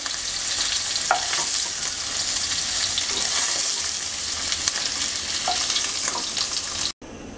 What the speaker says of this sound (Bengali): মাছটা ভাজা হয়ে গেছে, তুলে নিচ্ছি।